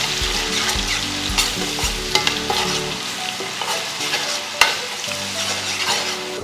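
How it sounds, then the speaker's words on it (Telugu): Masala paste of about two spoons fries and is stirred in a pan for curry leaves chicken, a steady close sizzle broken by spoon scrapes and clacks, with no talk. "ఇది కూడా పచ్చివాసన పోయే వరకు ఫ్రై చేసుకోవాలి"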